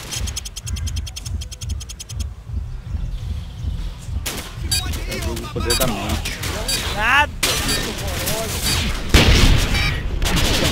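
Bursts of rapid automatic gunfire and mechanical weapon clatter from a Call of Duty match, set in a Rio favela map, come in repeated volleys while players talk over the action.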